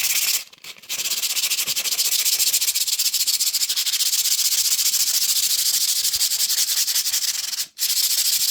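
Coarse 80 grit sandpaper rubs steadily against a window frame, a loud, continuous scratchy hiss with a rapid back-and-forth texture, pausing briefly near the start and once toward the end.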